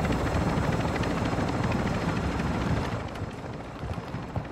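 A helicopter in the video game DMZ produces a loud, continuous rotor roar with rapid blade thumping that stays close throughout, easing slightly toward the end, with no voices over it.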